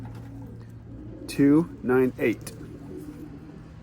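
Newly imported racing pigeons cooing close by, three loud throaty coos in quick succession over a low steady hum, with a brief spoken word in the background.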